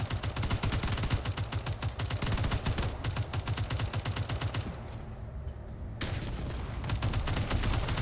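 Field mortars fire in the Space Engineers game, a rapid, dense string of booming shots in steady rhythm that pauses briefly and then resumes, fairly quiet overall.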